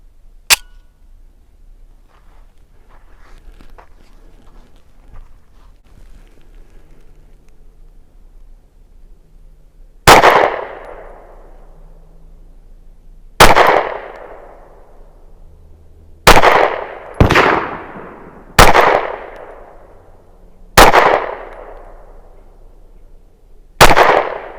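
Seven sharp shots from an FN 509CC Edge Comp 9mm compensated pistol, one early then six spaced at a steady pace, loud and close with ringing decay after each.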